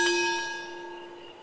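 A single bell in a video game strikes once with a clear metallic ding, then rings out and fades over a second and a half, alone and fairly close.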